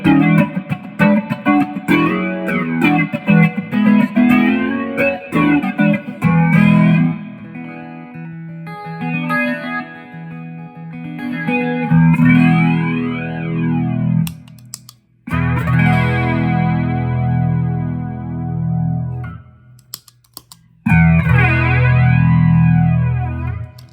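PastFX flanger guitar effect pedal sweeping over distorted guitar chords and riffs, with a whooshing, swirling modulation and short pauses between phrases, loud and up close.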